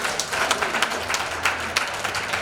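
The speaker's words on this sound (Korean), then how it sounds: "큰 박수 부탁드리겠습니다." Applause from an audience at a Rotary club meeting: dense, steady clapping from many hands that fills the room, loud and continuous with a few sharper individual claps standing out and no talk over it.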